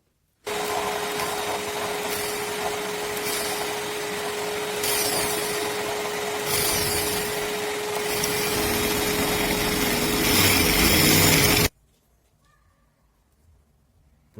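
A vacuum cleaner runs steadily and loudly to catch dust while a wall is drilled for a TV bracket, its constant whine shifting in pitch with brief surges before cutting off abruptly, leaving near silence.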